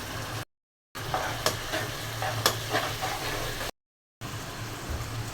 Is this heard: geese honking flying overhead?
no